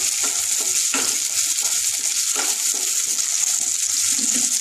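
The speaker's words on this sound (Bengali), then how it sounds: "কালো জিরে ফোড়ন একটু দিতে হবে।" Nigella seeds tempering in hot oil give a steady, loud sizzle and crackle, with occasional stirring scrapes, while cooking a Bengali bori jhal curry.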